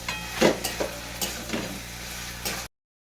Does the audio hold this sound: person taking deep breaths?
no